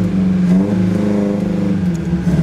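An old car engine, restarted after sitting unused for 29 years, idles steadily up close while it is shifted into reverse gear. The rumble is close and even, and no one speaks.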